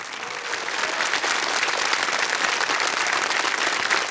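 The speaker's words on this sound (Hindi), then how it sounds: "तालियां बज जाए इनके लिए।" Studio audience applause on a TV quiz show as a contestant wins 6,40,000 rupees and quits, a dense, even roar of many hands clapping continuously at steady loudness.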